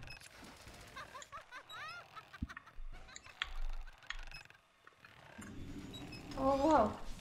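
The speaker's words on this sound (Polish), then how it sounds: "To są totalnie kaczki." Ducks quacking in the Lego Harry Potter video game, a few short nasal calls that rise clearly near the end over game sounds, with people talking earlier.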